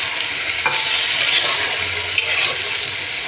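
Black cumin paste and lentil dumplings are stirred in a hot pan, giving a steady loud sizzle with a couple of brief scraping knocks and no talking.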